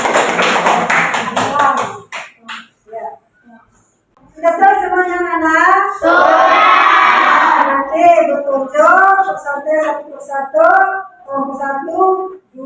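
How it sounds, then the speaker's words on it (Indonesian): Schoolchildren in a classroom applaud in a brief burst of clapping, then voices take over and talk continues. "kasih aplaus"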